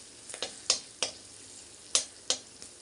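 Curry leaves and green chili frying in oil with asafoetida for poha chivda, sharp crackles and pops sounding every half second or so above a quiet sizzle, with no voices.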